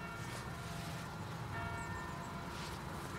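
Distant church bells ring faintly and continuously through a steady outdoor background hum.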